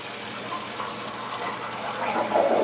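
Water rushing into a whole house water filter canister after a valve is opened in a laundry room, a steady hiss and gurgle that swells slightly louder toward the end.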